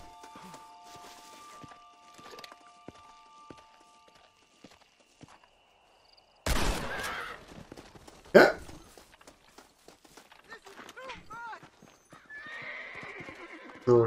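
A horse neighs and snorts amid a steady clip-clop of hooves in Red Dead Redemption, with quiet game ambience before and faint whinnies trailing off.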